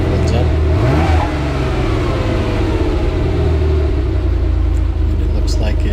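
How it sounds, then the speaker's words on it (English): A Porsche 911 engine fitted with Bosch CIS K-Jetronic fuel injection idles with a loud, steady rumble and takes a quick rev that rises and settles, close up, with voices over it. "give it a quick rev to see where the duty cycle ends up"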